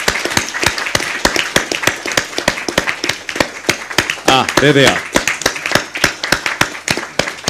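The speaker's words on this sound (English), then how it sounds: "Let's just give them a very warm round of applause." Audience clapping for the organising team at a policy forum roundtable, a steady dense patter of claps with a brief voice speaking over it partway through.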